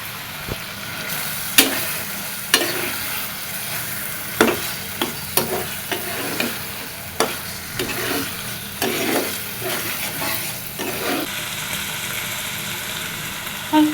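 Cut, washed potatoes fry and are stirred into an oily spice masala, a continuous sizzle broken by repeated sharp spoon knocks and scrapes against the pan, close and fairly loud, with no one talking.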